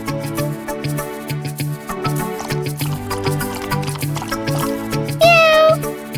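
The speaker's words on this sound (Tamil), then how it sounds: "அந்த பூனைக்குட்டி ரொம்ப பசியோட இருந்தது" A hungry cartoon kitten gives a single rising and falling meow near the end, heard over soft plinking tones and liquid trickling sounds in a Tamil children's animated story.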